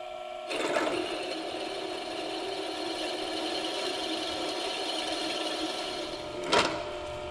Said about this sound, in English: Okay, now we can drill our holes.